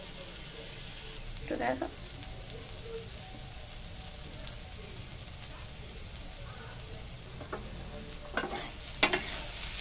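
Chickpea greens with potato frying in a pan make a soft, continuous sizzle, broken by a few sharp scraping stirs of a spatula. A voice speaks briefly.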